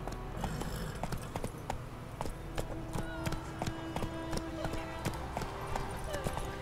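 Horse hooves clip-clop at a steady gallop in the game The Witcher 3: Wild Hunt, the rhythmic thuds running throughout beneath players talking.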